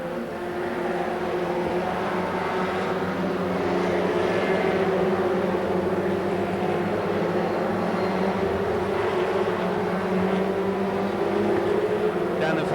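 National Superstock race cars battle through race 28 of the Avon Tyres Champion of Champions at Ipswich, their engines blending into a continuous, dense roar that holds steady and loud throughout with no break.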